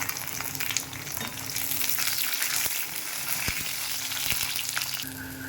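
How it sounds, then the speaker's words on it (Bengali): Oil sizzles and crackles steadily in a pan as eggplant fries, with a few sharp pops and stirring clicks, close up and no talking. "বেগুনটা একটু ভেজে নেব।"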